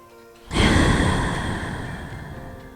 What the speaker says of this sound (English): Last round of breath.